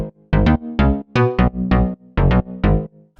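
A synth bass patch from the Diva factory bank plays a minimal house bassline of about eight punchy, sustained notes in a bouncy, gapped rhythm, loud and alone.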